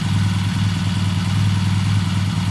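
A Triumph 750cc motorcycle engine during a test ride, a loud, steady, low rumbling throb running unbroken and close throughout.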